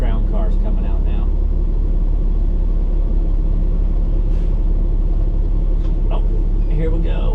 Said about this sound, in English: These are all USAC Silver Crown cars coming out now